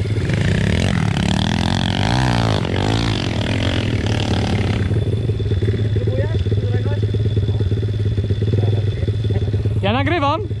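An MRF 80 pit bike engine revs hard and close on an enduro trail, rising and falling sharply in repeated bursts, with a voice talking over parts of it.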